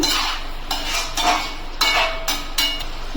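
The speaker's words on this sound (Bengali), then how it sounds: "চিনিটা দিয়ে একটু নাড়িয়ে নেব।" Muri ghonto is stirred in a pan after sugar goes in, a utensil scraping in repeated strokes about every half second, close and clear with no talk.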